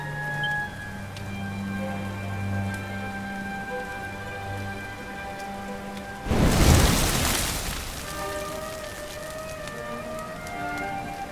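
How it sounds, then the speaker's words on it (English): Steady rain pours in a Dragon Quest XI scene, a continuous hiss of falling drops under a soft musical score, broken midway by a loud rumbling burst like thunder before the music and rain resume. "Looks like the rain's dying down"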